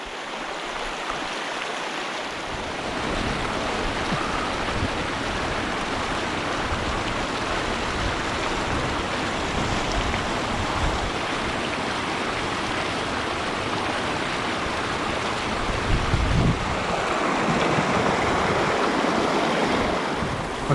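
A small, snowy, overgrown creek flows steadily, a dense close-up rush of water that is broadband and constant for the whole stretch.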